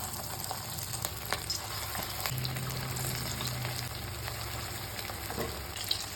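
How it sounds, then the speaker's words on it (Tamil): Marinated chicken 65 pieces deep frying in hot oil give a steady, close sizzle and bubbling hiss that holds for the whole stretch, with faint clinks on top and no talking. "இப்போ வந்து இந்த சிக்கனை வந்து ஆயிலில் போட்டு பொரிச்சு எடுத்துடலாமா"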